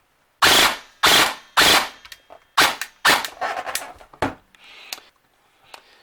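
A VFC HK416C airsoft rifle fires in short full-auto bursts, about six quick loud strings of shots close by, with a fainter trailing burst at the end and no talking.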